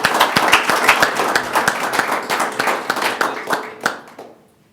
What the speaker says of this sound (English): round of applause for 6 years of service